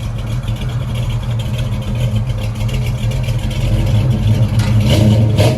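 A 1965 Chevy C10 pickup with a 400 small block V8, long tube headers and Flowmaster true dual exhaust revs loudly nearby, a deep burbling rumble that swells and climbs toward the end.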